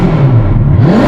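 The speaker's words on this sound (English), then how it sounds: "This Portofino M has to be the loudest Portofino M I've ever heard in my entire life." A Novitec-tuned Ferrari Portofino M with a flap-actuated X-pipe exhaust gives a short, loud rev close by, its deep engine note swelling and dipping within about a second.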